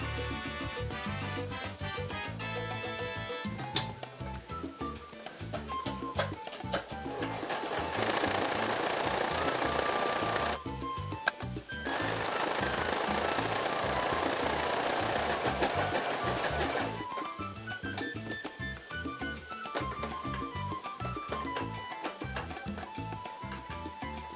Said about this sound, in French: je vais faire déjà un point zigzag de chaque côté sur la face de 21 cm